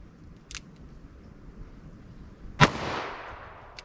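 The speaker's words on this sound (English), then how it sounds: "I'll shoot single action here to see how the recoil is in these." A 9mm pistol fires a single Blazer Brass hollow point round in single action, one sharp loud crack with a ringing decay, preceded by a small click.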